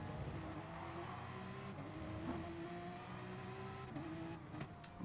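A Porsche race car engine heard from on board in a racing video game at Laguna Seca drones steadily, its pitch rising and dipping with gear changes and throttle, alone and fairly loud.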